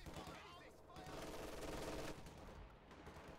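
Light machine gun fire from upgraded Grenadiers in Company of Heroes 2, heard as sustained rattling bursts of battle gunfire with a denser stretch in the middle, under ongoing game noise.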